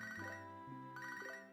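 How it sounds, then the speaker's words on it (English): Two repeated bursts of a chiming phone-call ringtone from the Pokémon SoulSilver game on an emulator, clear and fairly quiet, with no talk. "And we got a phone call while we were away."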